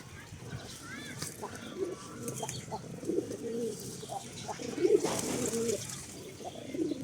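Pigeons coo softly in a yard at feeding time, low murmuring calls repeating under a steady hum of background noise, with faint chirps and a brief rustle of wings.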